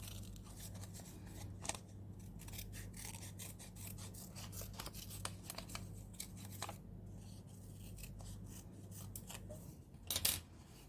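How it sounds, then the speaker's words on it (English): Small nail scissors snip curvy shapes from paper, a quiet stream of quick crisp cuts and rustling at close range over a low steady hum, with a sharper burst near the end. "the curvy stuff I'll do with the nail scissors"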